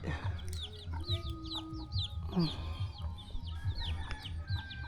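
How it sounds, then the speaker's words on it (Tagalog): Native chickens cluck repeatedly in short bursts, with small birds chirping and a steady low hum in the background. "Mga manok dito puro native."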